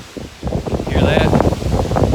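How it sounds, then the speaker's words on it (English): Strong wind buffets a high mountain trail in the Smokies in winter, loud gusty roaring and rushing close against the microphone, with a person speaking briefly under it. "It is crazy wind."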